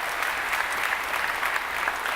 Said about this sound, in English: give Brad a round of applause if you don't mind